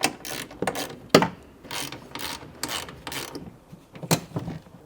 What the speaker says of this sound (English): I'm going to go ahead and start removing the 10 millimeter bolts on these hinges.